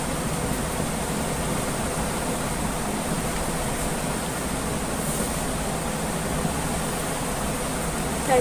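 Plain water poured steadily for a ritual bath of Lord Jagannath, a continuous splashing wash with no pauses, fairly close and moderately loud, with no voices.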